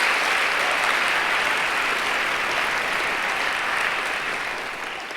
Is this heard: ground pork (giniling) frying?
no